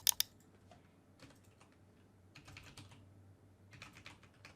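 Someone types on a computer keyboard, entering a database name: two sharp clicks at the start, then scattered bursts of quiet, fairly close keystrokes separated by short pauses.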